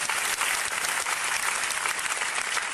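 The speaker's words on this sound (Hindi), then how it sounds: "तो एक जोरदार ताली अपने लिए" Audience at a business motivational event applauding, dense continuous clapping from a crowd, steady and fairly distant.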